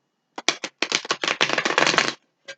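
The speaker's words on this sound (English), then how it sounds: "I like you seeing me shuffle the cards" A deck of tarot cards being shuffled close by, a dense run of riffling flutters and slaps that ends in a single soft tap after a short pause.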